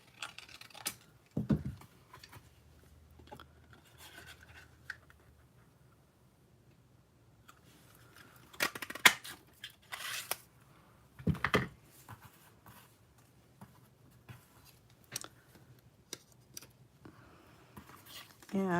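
Scissors snipping out a stamped paper ice cream shape for a double pocket fun fold card, giving a few crisp cuts and light ticking paper handling spread over quiet moments, with soft talking in between.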